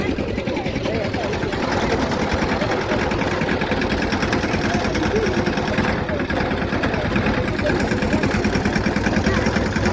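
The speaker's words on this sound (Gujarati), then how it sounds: "આ ટ્રેક્ટરનો બેક વ્યૂ છે" A tractor engine running steadily during a farm ride, a loud continuous chugging drone with rapid mechanical vibration throughout and no break.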